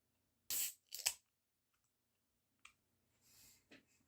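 A bottle of Łomża Pils beer is opened with two sharp, close metallic clicks and scrapes, followed by a brief tick and a short soft hiss in otherwise quiet surroundings.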